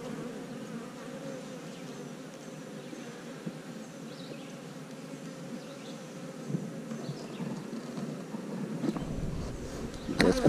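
Dense, continuous buzzing of many honeybees swarming close by around a hive, a steady droning hum that swells slightly toward the end.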